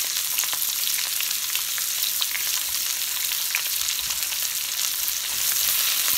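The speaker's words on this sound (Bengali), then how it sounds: "এখন আমি পেঁয়াজটাকে একটু হালকা ব্রাউন করে নেব।" Two large onions, salted, frying in oil in a pan, a dense continuous sizzling hiss with faint crackles and occasional stirring scrapes, steady and close with no speech.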